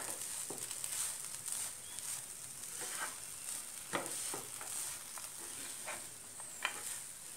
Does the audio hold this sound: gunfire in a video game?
no